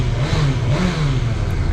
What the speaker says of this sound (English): It just revs up so fast